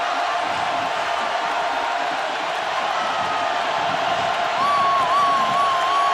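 Stadium crowd at a 1998 Notre Dame versus Purdue college football game, a steady, loud roar filling the air throughout, with a whistle-like tone rising briefly near the end.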